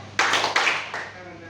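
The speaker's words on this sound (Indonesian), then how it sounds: "Kalau siang, tepuk tangan 2 kali." Two quick rounds of hand claps from students in a classroom concentration game, the second followed by a softer third, fairly close with a faint hum behind.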